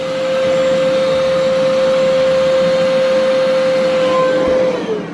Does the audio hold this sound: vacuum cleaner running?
yes